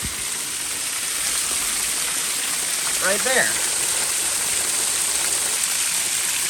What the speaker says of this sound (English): Stopped at this little roadside waterfall because it looked really cool.